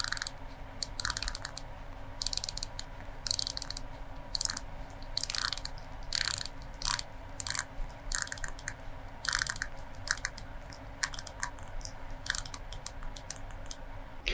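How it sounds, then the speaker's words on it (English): Blue polygonal bezel of a Seiko Prospex SPB483 diver's watch turned by hand, giving faint, precise little clicks in loose irregular groups over a quiet background. "While the clicks on this one are precise and feel good"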